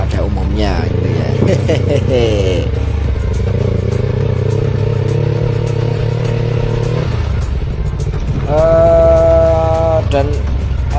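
A custom Yamaha R25 sport motorcycle on original suspension being ridden off-road, its engine droning and revving steadily beneath someone talking close to the mic.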